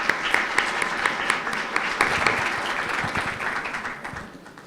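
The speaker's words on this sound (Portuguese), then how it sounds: "Uma salva de palmas a todos." Applause from an audience for panelists at an international business panel, steady clapping at moderate level that fades toward the end, with faint voices underneath.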